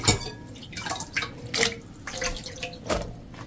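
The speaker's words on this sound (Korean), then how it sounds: "떡국떡은 물에 한두 번 씻어서 뿌연 전분을 조금 빠지게 해야 더 쫀득거려요." Sliced Korean rice cakes for tteokguk are rinsed in water, with splashing, swishing and trickling in several short bursts close by, like hands stirring them in a bowl under a running tap.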